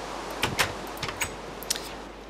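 Wooden doors in the Minecraft video game open and close in a few quick clicky knocks, sharp and close, spread across a quiet stretch.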